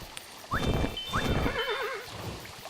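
Horse in the video game Kingdom neighing: a loud, wavering whinny follows short rising squeals, set against a soft background and with no speech.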